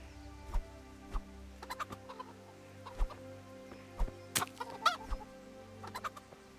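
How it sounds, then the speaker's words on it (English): Hens in the medieval game Kingdom Come: Deliverance cluck in short irregular bursts, several sharp close clucks scattered over a quiet farmyard background with no speech. "I have to feed the hens, weed the garden, feed Tinker"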